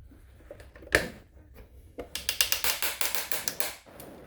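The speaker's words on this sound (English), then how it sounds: "You hear these ratchets. Sounds like something's breaking, but they're just that strong." Ratchet joints on a Transformers Kingdom Autobot Ark toy click as a part is turned: a couple of isolated clacks, then a quick series of about ten sharp, close, evenly spaced ratcheting clicks.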